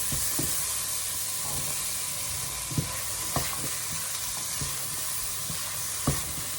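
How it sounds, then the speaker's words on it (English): Chickpeas sizzling in a hot pan for a vegan Galician callos stew, a continuous loud hiss broken by occasional sharp clicks of stirring, no talking. "Now I'm going to add the chickpeas."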